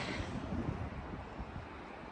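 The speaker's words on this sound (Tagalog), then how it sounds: "Tapos marinig mo yung alon." Steady rushing surf of ocean waves on Sagara Beach, Makinohara, Japan, with a wash of wind noise, continuous and fairly close, no voices.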